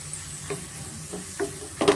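Chili and coriander powder frying in hot oil for a sprouted horse gram sambar, a soft sizzle with a few brief stirring scrapes, the last one louder, close by and without talking.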